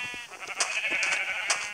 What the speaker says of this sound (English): he's like the only black sheep here